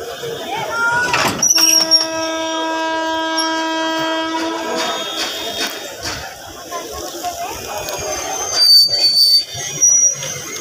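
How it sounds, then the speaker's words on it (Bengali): A train hauling a fire-damaged locomotive creeps slowly through Narayanganj railway station, a long sustained horn blast sounding early over rumbling wheels and station clatter, with brief higher whistle tones later. "ট্রেনটি আস্তে আস্তে আবার এগিয়ে চলছে"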